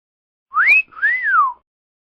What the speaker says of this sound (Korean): 습관처럼 휘파람을 불고 다녀 그의 곁에서는 휘파람 소리가 떠나질 않았습니다